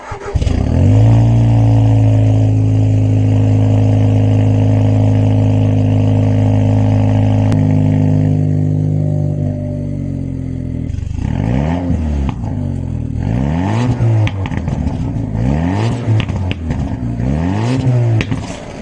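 A Volkswagen Passat B5.5 engine hums at a steady idle, then rises and falls through several repeated revs, close and loud.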